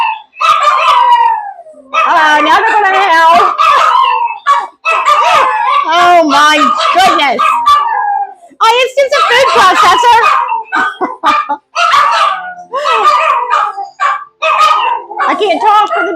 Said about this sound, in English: I can't talk for the dog's howling.